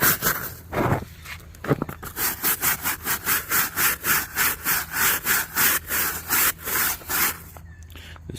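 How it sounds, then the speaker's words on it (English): Rhythmic, close back-and-forth scrubbing with a stiff scrub brush on a soaked dirtbike, about a dozen even strokes in a row, loud and alone without talk. "so you just let the bike soak. A little scrub."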